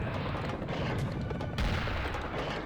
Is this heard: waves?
no